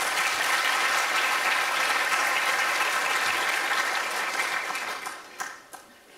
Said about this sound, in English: I wanted to ask you for a big applause for Fred Kempe